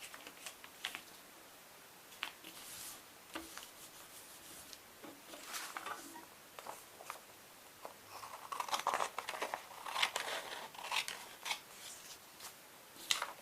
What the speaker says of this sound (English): Fold up 1 edge and then fold it again to size.